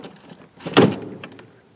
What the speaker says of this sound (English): now you see the whole door cover is free and we can lift it up